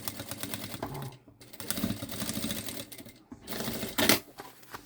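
A sewing machine stitches a synthetic backpack in a close, steady run of rapid mechanical rattling, pausing briefly twice before starting up again.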